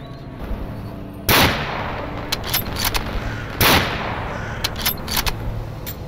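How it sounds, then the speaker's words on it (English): Gunfire from a weapon in the video game Stalker: a few loud, sharp shots with distinct gaps between them, scattered across the stretch over a steady low background hum. "It sure takes a lot of bullets to kill someone with this gun."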